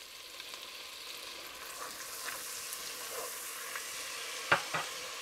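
Minced garlic, about three tablespoons, fries quietly in a pan of spiced oil, a soft steady sizzle with light stirring and a couple of sharp utensil clicks near the end.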